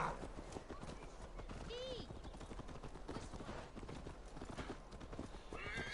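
Rhythmic hoofbeats of a galloping horse in the video game Assassin's Creed Valhalla, steady and close, with a horse whinnying partway through amid other game sounds.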